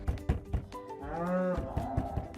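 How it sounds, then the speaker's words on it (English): A black and white cow gives one long, drawn-out moo at close range, rising and holding before fading, with dull thumps and shuffling around it. "That cow is black and white."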